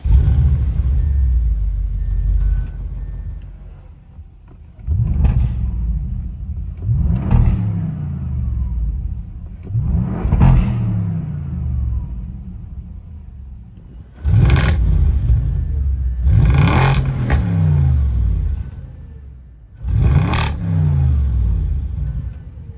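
An Audi RS7 rumbles loud and close through a series of revs, each sharp rise in engine pitch falling back to a deep burbling idle, five or six blips spread over about twenty seconds.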